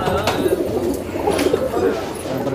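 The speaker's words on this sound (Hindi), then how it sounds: "सारे कबूतर हम काउंटिंग के साथ निकाल रहे हैं।" Pigeons coo in low, soft, burbling murmurs at a pigeon-flying tournament in Hyderabad, several overlapping, close by with some faint background noise.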